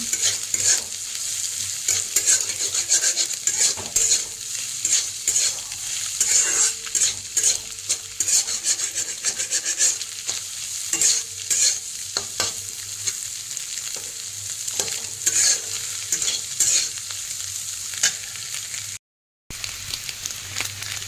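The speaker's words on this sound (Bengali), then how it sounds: "আলু পেঁয়াজ ভেজে দিয়েছি, দিয়ে দিলাম একটা ডিম" Potatoes, onions and an egg fry in a pan with a steady crackling sizzle, stirred with scraping utensil strokes throughout, close and moderately loud, with no one talking.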